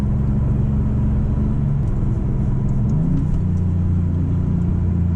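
A Maserati MC20 Cielo convertible accelerating hard on its turbos, a loud, steady low engine drone heard from inside the car, with the pitch shifting partway through as it changes gear.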